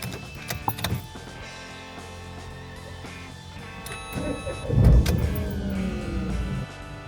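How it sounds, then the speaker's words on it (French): A Renault Twingo 3 with a camshaft sensor fault (P0340) tries to start: an electric whir and a few clicks, then a brief low cranking surge that settles into a steady hum, recorded close up. "Je vais réessayer un démarrage."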